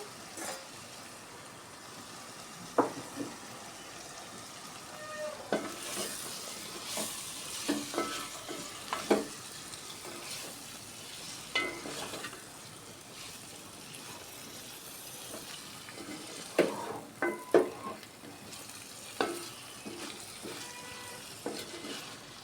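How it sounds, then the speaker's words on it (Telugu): Broad beans cooking in hot oil in a pan give a steady low sizzle, broken by scattered louder clacks and scrapes of stirring against the pan, with no talk. "చిక్కుడుకాయలు కూడా ఇలా వేసేసాను వేసేసి కొంచెం మగ్గనిస్తాను"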